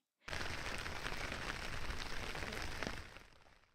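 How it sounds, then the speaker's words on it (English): Heavy rain plays back from a phone video, starting abruptly as a broad, dense roar that holds steady for about three seconds before fading, faint and slightly tinny. "you should be able to hear the rain now"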